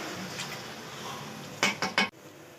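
Yogurt being added to a pot of spices and tomato paste for beef kofta, a faint background sizzle followed by three quick metallic clinks of a utensil against the pot, then sudden quiet.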